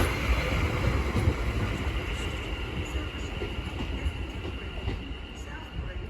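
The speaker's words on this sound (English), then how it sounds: "is the 1117 London Overground service from Chingford to London Liverpool Street" A London Overground Class 710 train runs from Chingford toward Liverpool Street, and its steady loud rumble of wheels and motors fills the whole stretch, with faint talk mixed in.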